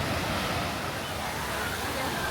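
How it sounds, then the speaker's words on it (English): Bayou Bay wave pool at Lake Compounce amusement park gives a steady, broad rush of churning water and surf, constant and fairly soft, with no distinct breaks. "And they've got a wave pool. This is Bayou Bay"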